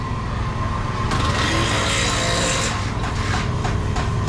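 Kart axle being cut, a loud continuous abrasive grinding and rasping close by, steady throughout with brighter harsh bursts partway through.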